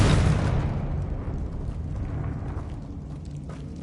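Confringo spell explosion in the video game Hogwarts Legacy: a loud fiery burst at the start that decays into a long, rumbling roar fading over several seconds.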